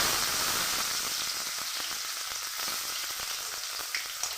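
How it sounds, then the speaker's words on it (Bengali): Tomato fries in a pan alongside cumin and chilli for a chana dal dish, giving a continuous close sizzle with faint intermittent stirring scrapes. "টমেটোটা রান্না পর্যন্ত একটু নেড়ে নেবো ভালো করে।"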